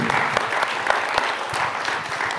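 An audience in a cultural hall applauds, with dense, steady clapping that fills the whole moment and is heard on its own without talk.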